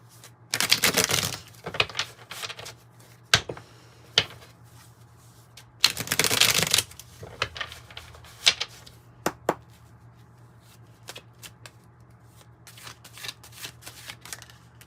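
A deck of oracle cards is shuffled, two loud riffling bursts followed by scattered soft taps and card handling, close and clear.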